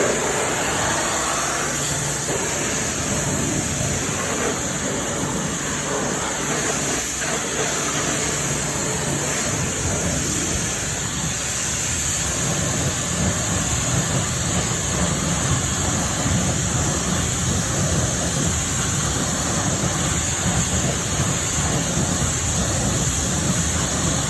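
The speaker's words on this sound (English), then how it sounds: "Let's give it a pressure wash down." A pressure washer rinses down car wheels, giving a continuous loud hiss and spray that stays steady throughout, with no talking.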